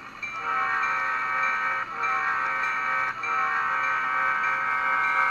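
A Proto 1000 RDC model rail car's sound decoder blares a steady horn loud and close for several seconds, a chord of harmonic tones with brief dips, over a low mechanical engine hum.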